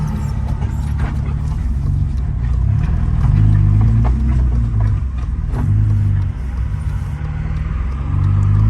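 A BMW E36 Touring with a welded differential drives along, its engine droning and rumbling steadily with rising revs, loud and close over road and wind noise.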